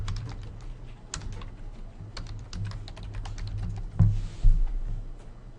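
Rapid clicking of computer keys during a Windows server setup, entering administrator credentials to join a domain; steady, close keystrokes in quick bursts with no talking.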